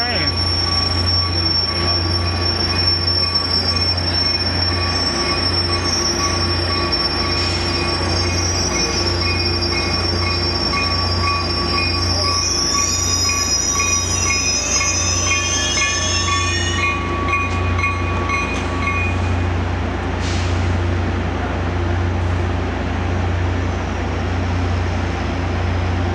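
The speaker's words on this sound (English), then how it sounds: "our train finally arrives into the station" A Caltrain commuter train rolls into a station with a loud, steady rumble, its wheels squealing in high sustained tones as it slows to a stop.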